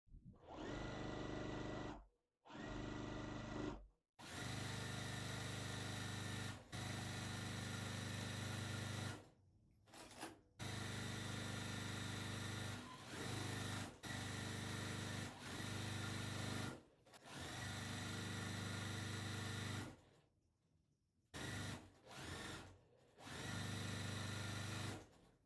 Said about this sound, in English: So I'm going to sew this top on first and then I'll come back and sew this bottom part on